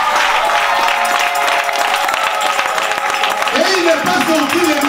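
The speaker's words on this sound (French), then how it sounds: "Est-ce qu'on peut donner des acclamations pour ce Dieu-là?" A church congregation at a wedding service claps and cheers loudly for God, a dense, close, sustained roar of hands with voices rising into shouts and whoops toward the end.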